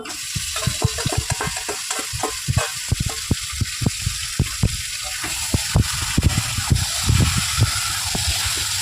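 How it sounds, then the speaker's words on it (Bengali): Chicken poured into a hot pan of oil, having first been marinated with cumin, turmeric and salt and lightly fried, sizzling loudly with a steady hiss and repeated clicks and scrapes from stirring. "এবার চিকেনটা এর মধ্যে ঢেলে দিচ্ছি"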